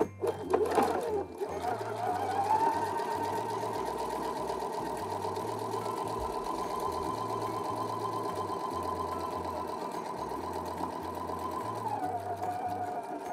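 A sewing machine stitches a quarter-inch seam with a fast, steady mechanical whir and rhythmic needle chatter that runs nearly the whole time and then stops near the end, close and fairly loud, with no speech.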